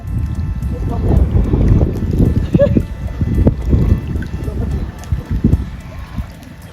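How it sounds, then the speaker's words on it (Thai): Wind gusting outdoors on open water beside a boat, buffeting the microphone with uneven rumbling bursts throughout, mixed with faint water splashing and a voice talking in the background. "โอ้ลมอยู่กลางเลยเนาะ"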